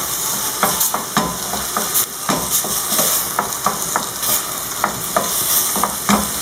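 Bulgur with lamb and carrot being stirred in a pot, steady sizzling and hissing broken by regular scraping and knocking strokes of a spoon against the pot, close and without speech.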